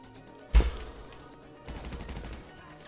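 Gunfire in GTA V during a two-player heist challenge: a sharp, loud single shot followed about a second later by a sustained burst of rapid fire, with no talking.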